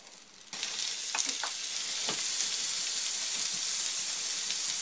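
Steady sizzling of onion and leek frying in butter in a hot pan, starting quietly then jumping to a loud continuous hiss with a few soft stirring clicks.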